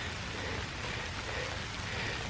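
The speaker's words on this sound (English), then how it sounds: "I'm under a shelter and it's raining pretty hard" Heavy rain pours down steadily in a forest on a hike, heard from beneath a shelter as a dense, unbroken hiss with no talking.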